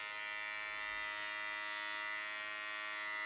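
A BaByliss body hair clipper hums steadily at close range, a constant bright electric buzz with no pauses for the whole stretch.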